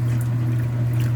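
A 2017 Speed Queen washing machine agitates a load of colored clothes in water, giving a steady, loud churning and sloshing over a constant low motor hum with no talking.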